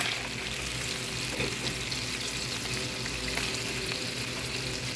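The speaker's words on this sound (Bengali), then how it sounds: "পনির ভাজা ওই ফ্রাই প্যানে আমি এখন রসুন দিয়ে দিব" Garlic frying in ghee in a frying pan just used for paneer, giving a steady, even sizzle that stays close and constant throughout with no talking.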